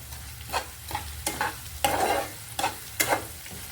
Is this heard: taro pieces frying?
yes